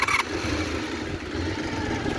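Honda VFR400 NC30 motorcycle with 38,000 miles running steadily at idle, a continuous low engine rumble after a brief higher-pitched blip at the start, close and moderately loud with no talking.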